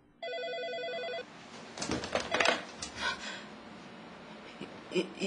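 A telephone rings with a short electronic warble, then clatters as the receiver is picked up, leaving quiet handling noises.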